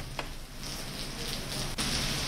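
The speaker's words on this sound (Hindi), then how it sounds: "दिल्ली एनसीआर में रात भर से रुक रुक कर बारिश हो रही है।" Steady rain falls across Delhi-NCR, a continuous soft hiss of drops on surfaces with no voices, swelling slightly louder near the end.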